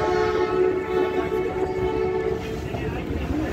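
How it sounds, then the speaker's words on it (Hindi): A train runs through Bolan railway station on the snowy Quetta to Shelabagh line, heard as a steady, close, rumbling drone with a faint sustained tone. "बलीली रेलवे स्टेशन से हम गुजर रहे हैं"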